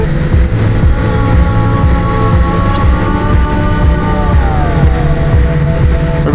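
A 2024 Suzuki GSX-R1000 motorcycle cruises on a highway in B mode during break-in, kept under 7,000 RPM, its engine droning steadily and loudly up close amid wind rush, with shifting engine tones.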